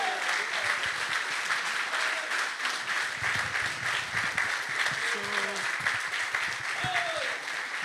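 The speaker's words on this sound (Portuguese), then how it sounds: "Can we have a big hand for Jesus?" Enthusiastic audience applause fills a church gathering in Brazil, a dense, steady wash of clapping that runs unbroken for the whole stretch, with some voices mixed in.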